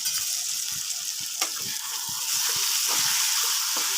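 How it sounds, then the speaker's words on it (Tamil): Prawns and onions sizzle in a hot pan, a steady frying hiss broken by repeated scraping stirs from a spoon, close and moderately loud with no talking. "எறாவை சேர்த்து இந்த வெங்காயமும் எறாவும் நல்லா வதங்கிறதுக்கு ஒரு கிண்டி அழகாக பிரட்டி எடுத்தோம்"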